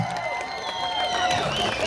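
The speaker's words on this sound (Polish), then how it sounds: "Wielkie brawa dla Was!" An outdoor summer concert audience in a Polish town claps and cheers after a song, a dense, sustained wash of applause with crowd voices and whistles mixed in.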